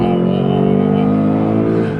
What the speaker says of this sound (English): Oh, I just got to use my V8 for a minute.